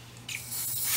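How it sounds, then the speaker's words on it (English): A can of basting spray hisses in a steady burst as it coats a small llama ornament for a craft project, starting softly and growing louder and continuous toward the end. "I'm gonna use my basting spray"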